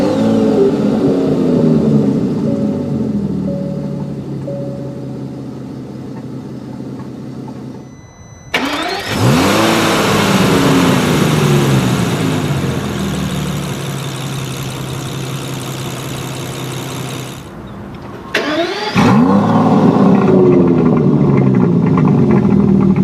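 A 2017 Aston Martin DB11 engine idles loudly, cuts out, fires up with a sharp bark and flares into revs, settles, then starts and roars again, close and dominant with no voices.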